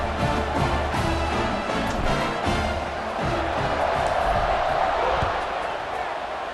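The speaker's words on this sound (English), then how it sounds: "this crowd is feeling themselves after that last drive" Stadium crowd noise from the EA Sports College Football 26 video game during a kickoff, a steady loud roar with rumbling cheers and scattered thumps and shouts throughout.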